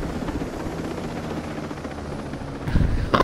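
A drone's propellers whir as it climbs in the video game Ghost Recon Breakpoint, a steady loud rotor drone filling the clip, with a couple of brief heavier thumps near the end and no talking.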